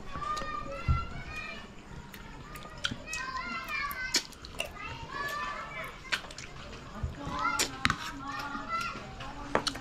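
Children play and run nearby on a Philippine coast, with lively shouts, squeals and chatter, scattered thumps and clatter throughout, and bursts of activity close by.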